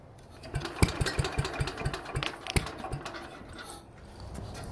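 A 69-year-old Briggs & Stratton 23A-FB small engine runs near and fairly quiet with a rapid, uneven mechanical chatter and clacking that fades toward the end, with no talking.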